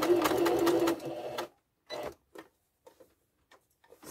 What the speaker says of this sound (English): And then we start stitching.